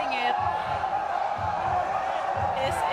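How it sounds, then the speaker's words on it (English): Arena crowd at a badminton men's singles final cheering and murmuring steadily throughout, with a commentator's voice running over it and faint low thuds. "The crowd is loving it."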